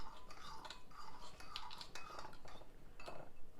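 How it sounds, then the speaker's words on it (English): A utensil stirs a small amount of sauce with rice vinegar in a bowl, producing quiet repeated clinks and scraping taps against the bowl in a loose rhythm, close and faint. "And stir this together."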